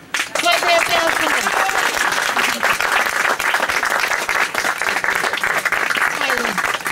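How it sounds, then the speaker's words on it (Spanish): A crowd at a social movement's May 25 gathering in Los Toldos breaks into loud, sustained applause right after an opening call, with scattered voices and shouts mixed into the clapping. "¡Fuerte aplauso!"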